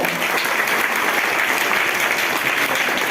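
Loud, dense applause from a large crowd of students at the opening of a two-day school sports competition at a public school, a continuous, even roar of clapping with no pauses.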